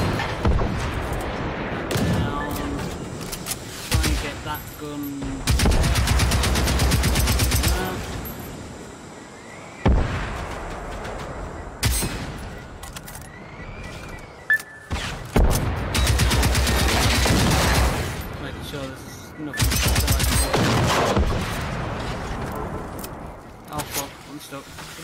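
Gunfire in Generation Zero, heavy bursts of automatic shots arriving in several loud clusters separated by quieter gaps, with players talking between and over the firing.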